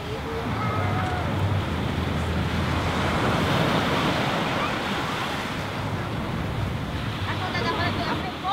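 Surf washing onto Puka Beach on Boracay Island in the Philippines, a continuous broad roar of waves with wind noise, steady and fairly near.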